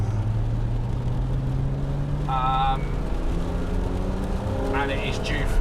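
Engine of a Porsche Cayman fitted with a modified sports-cat exhaust, running on a narrowing road with an IPD intake plenum and a 997 GT3 throttle body. It drones steadily and close throughout, with a short rev change near the end.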